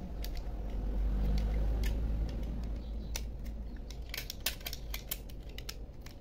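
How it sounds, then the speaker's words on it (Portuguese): A sharp utility knife pares away rotten tissue from a desert rose plant with root rot, producing a series of quiet, crisp scraping and cutting clicks at irregular intervals over a low background rumble. "Agora eu vou usar aqui o estilete."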